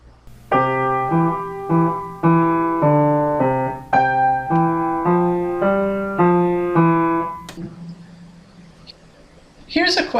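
Two melodic lines played together on a keyboard instrument, detached and smooth notes overlapping in a steady rhythm, ending in a decaying tail with a brief noise.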